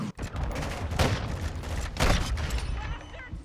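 Gunfire crackles through a video game team deathmatch as a steady rattle of shots, with two sharp, louder bursts about a second apart, close and busy throughout.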